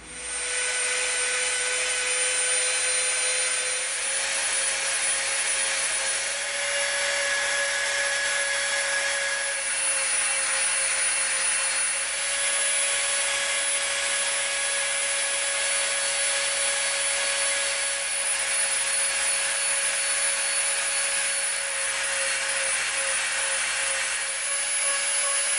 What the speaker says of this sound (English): we're going to be coming in here with the Dremel, and we're going to be beveling right up to that line right there